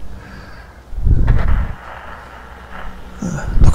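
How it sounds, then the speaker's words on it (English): A tank gun fires in the World of Tanks video game, a single deep booming shot with a rumbling tail, close and loud, followed by quieter game ambience and a lighter thud near the end. "trying to see if I can lob a shot at them"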